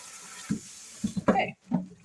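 Dandelions are rinsed under a running kitchen tap, with uneven splashes and gurgling bursts of water as the greens are moved about in the stream.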